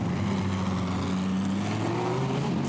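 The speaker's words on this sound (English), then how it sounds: "The green flag is shown, and so now the pit lane empties, and it was number 3 Audi that was out first." Audi GT race cars pulling out of the pit lane at Monza during qualifying, a sustained engine drone climbing in pitch as they accelerate away, heard from a distance and steady throughout.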